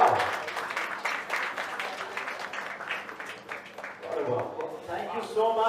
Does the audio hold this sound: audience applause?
yes